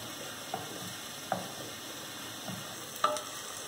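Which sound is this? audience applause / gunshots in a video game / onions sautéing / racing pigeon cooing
onions sautéing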